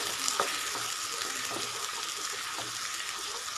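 Ground masala paste sautés in hot oil for Tamil cabbage kulambu, a continuous bright hiss of frying with a few faint stirring taps, steady and close.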